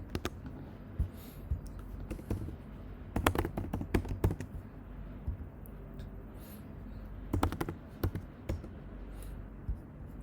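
Computer keyboard typing while coding an iOS 13 app, coming in three clustered bursts of quick clicks separated by quieter stretches, close and moderately loud with no talk.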